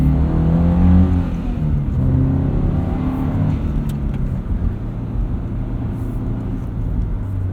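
A 2022 Subaru BRZ fitted with an MRT Sport Touring axle-back exhaust, with its fake engine noise turned off, revs loudly and steadily from inside the cabin. The deep, continuous exhaust tone rises and falls, heard alone without talk.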